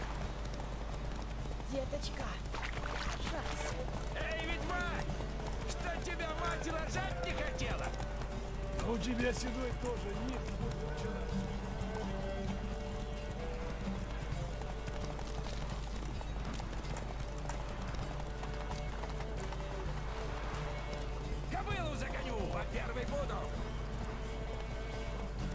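Horse galloping in a race in the video game Witcher 3, steady clip-clop hoofbeats running throughout under constant low background noise, with occasional game voices and sounds over it.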